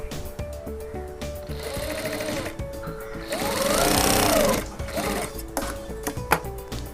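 A sewing machine stitches puff sleeves in close, rapid bursts of mechanical whirring, stopping and starting between runs, under a voice talking.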